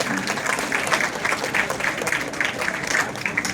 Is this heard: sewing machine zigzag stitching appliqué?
no